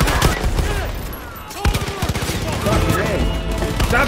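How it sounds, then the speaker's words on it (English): Rapid bursts of automatic gunfire in a cooperative first-person shooter video game, loud and continuous, with a heavy volley partway through while players shout over it. "Stop shooting at me"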